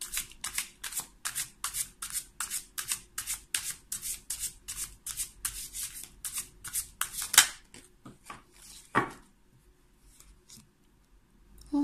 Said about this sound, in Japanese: 少しシャッフルをさせてください。